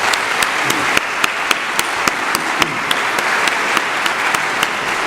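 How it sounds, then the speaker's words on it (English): Assembly audience at a Tarleton State University general assembly applauding the Kiewit Construction crew, a steady wash of many hands clapping with sharp individual claps popping out, sustained and fairly loud throughout. "I think we owe everybody in this building and the Kiewit Construction folks a round of applause for all they've done"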